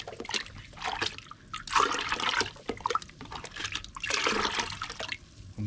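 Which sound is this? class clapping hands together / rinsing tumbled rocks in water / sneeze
rinsing tumbled rocks in water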